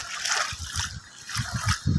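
River water trickling and splashing past a water tank that now sits in the riverbed, a steady nearby burble with bursts of low, gurgling splashes and no talk.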